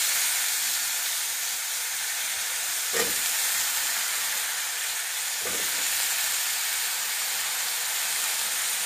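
Pieces of jackfruit (neer phanas) sizzle steadily in a hot tempering for a Malvani-style vegetable dish, with a constant bright hiss broken by two brief stirring scrapes, close and without talk.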